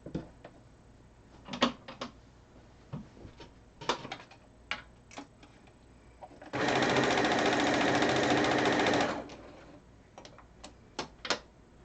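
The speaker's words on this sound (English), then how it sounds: "So I'm going to sew rows to each other." Sewing machine stitching quilt rows together runs in one steady whirring burst of a few seconds, close and clear, framed by scattered soft taps and clicks before and after.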